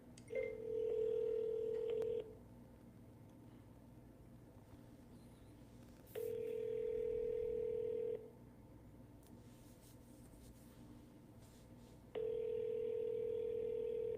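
An outgoing telephone call to a local 502-area number rings on the line, with three steady ringback tones of about two seconds each, separated by roughly four-second silent gaps, heard clearly over faint background hiss.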